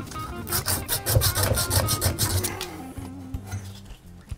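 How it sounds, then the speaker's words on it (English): Sand cloth is rubbed quickly back and forth over a copper pipe fitting, making close, scratchy strokes in a fast rhythm that stop near the end, leaving faint handling noise. "take some sandcloth and clean your fitting, just to make sure that you don't have any burrs"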